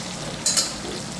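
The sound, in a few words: stuffed brinjals being gently stirred while frying in oil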